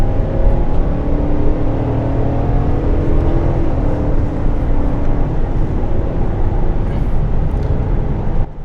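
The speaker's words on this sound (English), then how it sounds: "Nice smooth acceleration, no surprises there." A 2021 Chevrolet Suburban High Country gathers speed on the road, its steady, muffled engine and road drone heard from inside the quiet cabin, continuous and even throughout.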